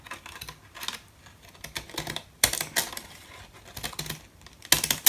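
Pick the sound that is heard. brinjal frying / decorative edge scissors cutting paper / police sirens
decorative edge scissors cutting paper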